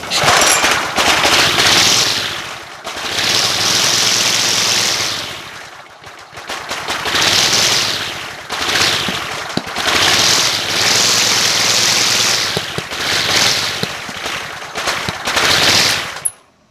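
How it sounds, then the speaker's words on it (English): A Briggs and Stratton lawn mower engine with a melted wire sputters and runs roughly with rapid backfiring pops, loud and close, cutting out briefly a few times before catching again. "So it's still backfiring."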